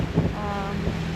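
Boat engines running at sea during a night watch on a swell-rolled sailing boat, a low steady droning hum mixed with wind buffeting the microphone and the wash of waves.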